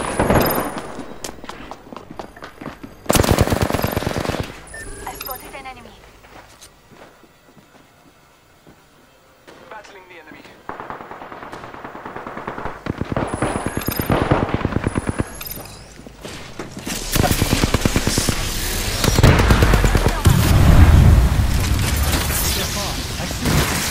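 Rapid automatic gunfire in the battle royale game Apex Legends comes in dense bursts with pauses and mechanical clatter between them, loud and close, while voices talk in places.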